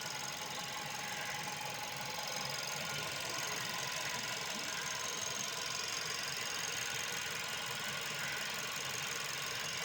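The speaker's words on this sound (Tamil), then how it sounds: "இப்போ நம்ம இந்த வெண்டோ வந்து ஸ்டார்ட் பண்ணிட்டோம்." Volkswagen Vento TSI petrol engine idling just after start, a steady faint mechanical hum with light ticking, continuous and even throughout.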